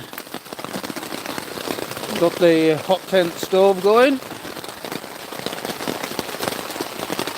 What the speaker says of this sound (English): But yes, mate, we've got rain